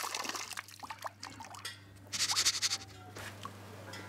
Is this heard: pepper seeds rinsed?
yes